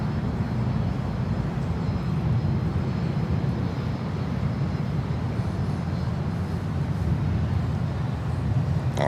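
A DHL cargo plane roars down the runway on takeoff, a steady, loud engine rumble sustained throughout with no voices.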